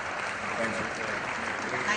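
Audience applause fills an awards ceremony hall, a steady wash of clapping from a large crowd that holds at an even level throughout, with faint voices mixed in.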